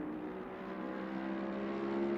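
A Mercedes race car engine in a racing game at Monza drones steadily and loudly at a constant pitch, a dense buzzing hum with no breaks.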